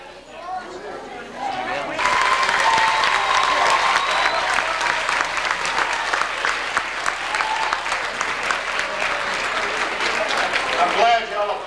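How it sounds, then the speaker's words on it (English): A large crowd at a 1994 church stake road show with ward skits in Houston, Texas bursts into sustained applause, dense steady clapping filling the hall for about ten seconds before tapering off, with some voices and a few cheers mixed in. "I'm glad y'all applauded us before we announced the winner"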